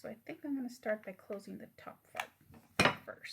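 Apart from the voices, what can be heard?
No everyday noises stand out.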